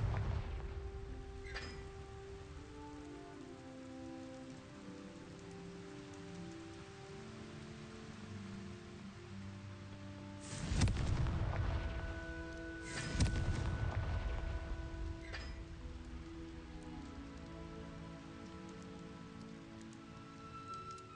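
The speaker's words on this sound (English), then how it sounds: "Confringo!" Confringo fire-blast spells exploding in Hogwarts Legacy, two loud close booms a couple of seconds apart over quiet musical ambience.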